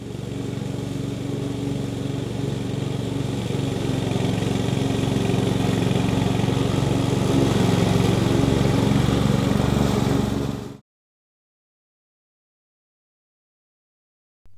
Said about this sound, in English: this ride-on lawn mower is suitable only for lawns on large area.